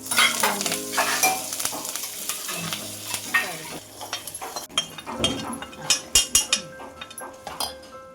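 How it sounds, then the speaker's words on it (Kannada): Curry leaves, mustard seeds and urad dal sizzle in hot oil for a tempering, with a spoon stirring and clinking against the pan in sharp, irregular knocks over a steady frying hiss. "ಕರಿಬೇವು, ಸಾಸಿವೆ, ಉದ್ದಿನಬೇಳೆ ಹಾಕಿ ಒಗ್ಗರಣೆ ಹಾಕಿ"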